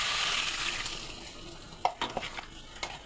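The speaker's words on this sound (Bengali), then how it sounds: "এবার জল দিয়ে দেবো।" Water is poured into a pan of silver carp fish curry with fried onion and tomato, a rushing hiss that fades out, followed by a few light clinks and stirring knocks against the pan.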